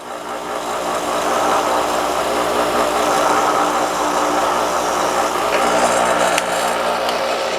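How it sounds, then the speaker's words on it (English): A Menards Performax grinder runs nonstop at close range, giving a loud, steady mechanical drone that holds a constant level throughout. "It's a Menards Performax grinder."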